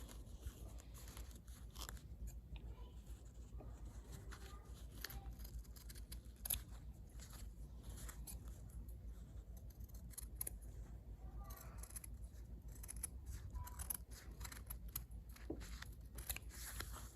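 Scissors snip through felt while cutting out small pink and purple Korok faces for homemade stuffed toys, a steady run of close, crisp cuts and light clicks under faint room noise.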